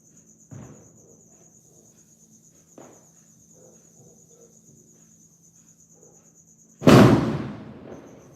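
New Year firecrackers go off: a couple of faint distant pops early on, then one loud, close bang that rings out and fades, over a constant background chirp of crickets.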